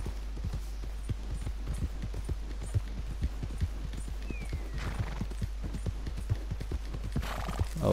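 Horse hooves clip-clop in a steady trotting rhythm in the video game Red Dead Redemption 2, with a brief neigh near the end over a constant low hum.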